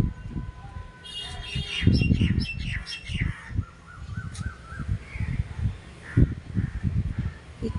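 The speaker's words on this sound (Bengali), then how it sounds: "এই কাকগুলো ভীষণ শয়তান" Crows caw over and over, harsh calls coming in uneven bursts at close to middle distance, with smaller bird chirps in the background and no one speaking.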